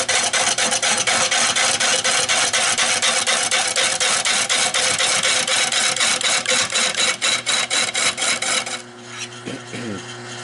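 A gouge cuts a catalpa wood bowl spinning on a Nova lathe, giving a loud, continuous rasping scrape with a rapid rhythmic pulse that drops to a quieter hum near the end.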